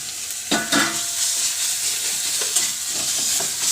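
Tomato paste and sugar sizzle in a pan while a spoon stirs them, giving a steady hiss broken by a few sharp scraping strokes. The sound is close and continuous, with no talking.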